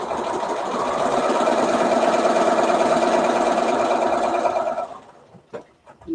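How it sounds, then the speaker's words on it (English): A sewing machine runs steadily for about five seconds, stitching patchwork quilt fabric, then stops; a few soft handling clicks follow, with no talking. "I'm sewing just a thread's width to the right of my line."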